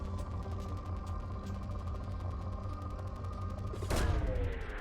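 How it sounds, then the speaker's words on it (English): Probe launching in Mass Effect 2: a steady mechanical hum with rapid ratcheting clicks, then a sharp whooshing burst near the end as the probe fires off. "Probe launched."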